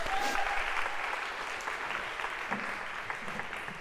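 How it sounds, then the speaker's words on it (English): Lecture hall audience applauding, a soft, steady patter of many hands at moderate distance with faint murmuring beneath. "oh, I feel Carter's waiting for applause"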